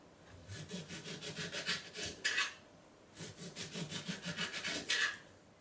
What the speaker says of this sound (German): Und die schäle ich so runter, die Haut, dass hier keine weißen Stellen sind.